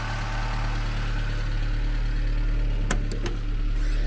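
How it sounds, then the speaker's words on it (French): Citroën C15 diesel engine idling close by with a steady low rumble and even throb, joined near the end by a few brief sharp clicks. "Mais c'est le ralenti correct, le plus correct pour avoir la meilleure reprise."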